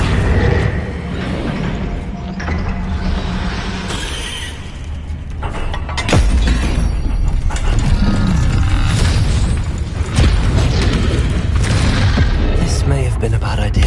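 Bombarda blasting spells from Hogwarts Legacy erupt in loud, booming explosions with shattering debris, several heavy blasts landing over a rumbling game soundscape as a character's voice is heard.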